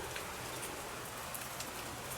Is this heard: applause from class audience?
no